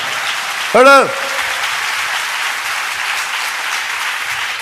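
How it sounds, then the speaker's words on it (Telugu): A church congregation breaks into steady, sustained applause that fills the room at even loudness throughout, with a brief raised voice ringing out near the start. "చప్పట్లు కొట్టి మహిమ పరుద్దాం"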